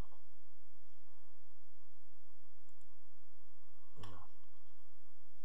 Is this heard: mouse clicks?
yes